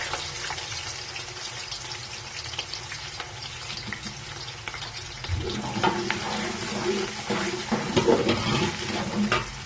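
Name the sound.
onions frying in hot oil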